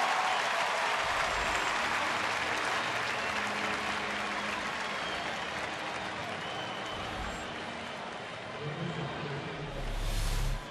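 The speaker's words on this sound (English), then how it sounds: "Former Georgia Texter getting some applause from some friends and Cardinal fans that are here at Turner Field today" Baseball fans applaud at Turner Field during a Cardinals–Braves game, a steady, moderately distant wash of clapping across the stadium that lasts the whole stretch.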